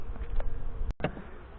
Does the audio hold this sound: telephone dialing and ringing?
no